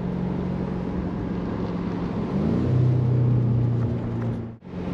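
A 2022 BMW M5 Competition LCI with 625 horsepower launches hard on launch control, its engine a loud, steady low roar that swells as the revs climb, shifts pitch mid-pull, then cuts off abruptly near the end.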